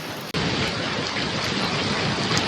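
Heavy rain pours down steadily, a dense, loud hiss that bursts in after a short quieter moment and then holds unbroken to the end.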